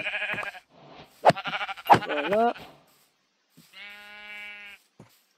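Sheep in Minecraft Java Edition bleat in short wavering calls, one stretched bleat standing alone near the end, while a person speaks French over the earlier part.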